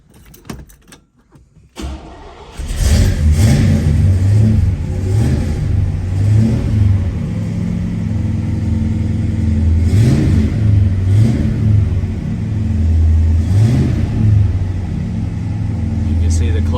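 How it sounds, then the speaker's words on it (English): A 1967 muscle car engine cranks, catches and settles into a loud, rumbling idle, with several sharp revs rising and falling close by, the deep throb continuing steadily throughout. "I will start this car right quick because I know all of my fans always ask about that."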